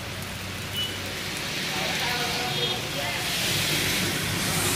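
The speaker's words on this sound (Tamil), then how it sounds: "ஸோ அதனால் பாருங்கள் மழை ஃபுல் மழை" Heavy rain at Srinivasa Sagara Dam in Chikballapur, a steady broadband hiss of rainfall on surfaces that holds even and continuous throughout, with faint background murmur.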